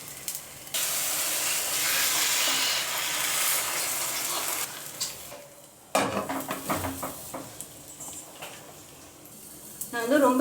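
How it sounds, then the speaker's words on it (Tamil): Omelette frying in a pan on low heat, a steady soft sizzle that drops away midway, followed by clinks and scraping of utensils against the pan, with a brief voice near the end. "இன்னொரு சைடு திருப்பி போட்டிருக்கோம், அது வேகட்டும்."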